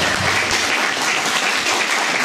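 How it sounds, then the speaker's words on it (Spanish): Audience applause at a church Bible school session, steady dense clapping from a roomful of people throughout the short stretch, loud and close. "Un aplauso."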